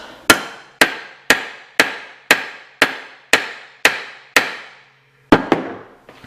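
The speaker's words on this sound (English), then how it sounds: "A couple more whacks." Hammer whacks seating a part on a Subaru Impreza/Forester AC compressor clutch: nine sharp, evenly spaced metallic strikes close up, a short pause, then two or three quicker final taps.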